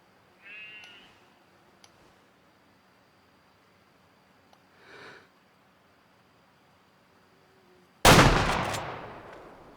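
A rifle shot in theHunter Call of the Wild, a .270 fired at a deer, cracks out sharp and loud near the end after quiet ambient stretches, then decays in a lingering echoing tail.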